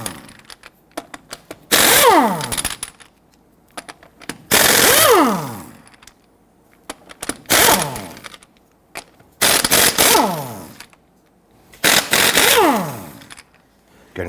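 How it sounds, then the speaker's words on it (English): Impact wrench with a 19 mm socket loosening lug nuts on a 2006-2010 Hummer H3 3.7L wheel, five loud ratcheting bursts of a second or two each, separated by short pauses, close up. "I'm going to go ahead and loosen and remove our lug nuts"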